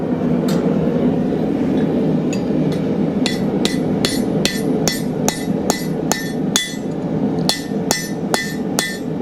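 Metal rings under a long run of sharp hammer blows, struck in a quick, steady rhythm over a constant low roar, as a blacksmith forges a nail in a header.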